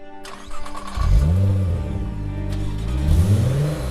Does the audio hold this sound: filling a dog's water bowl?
no